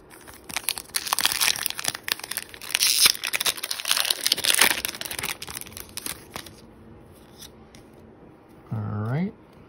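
Pokémon TCG Celebrations booster packs being torn open and handled, with dense crinkling foil, ripping and card shuffling up close; a brief voice comes in near the end.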